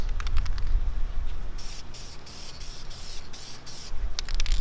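Aerosol spray paint hisses in a series of short, close bursts with pauses between as a 2001 BMW M3 E46 armrest and center console are coated.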